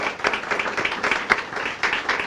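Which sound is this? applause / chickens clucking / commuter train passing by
applause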